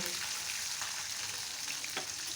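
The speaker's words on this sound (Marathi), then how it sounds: "शेंगदाणे आणि मिरचीचे तुकडे छान तेलात परतून घ्यायचे आहेत" Peanuts and finely chopped green chilli pieces frying in hot oil in a home kitchen, a soft continuous sizzle with a few light stirring scrapes, fairly quiet and close, no talking.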